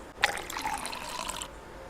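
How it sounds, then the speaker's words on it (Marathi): Water poured into a container, a brief splashing fill lasting about a second, fairly close and moderately loud, with no one speaking. "130 ml पाणी टाकायचं खाली."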